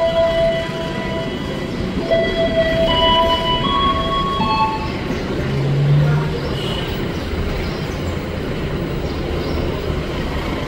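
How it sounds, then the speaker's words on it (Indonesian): The Fajar Utama Jogja passenger train rumbles past at a station in Indonesia with a steady low roar and wheel clatter, brief high squeals and a faint distant horn, while voices murmur in the background. "yang tadi lewat itu adalah kereta api Fajar Utama Jogja"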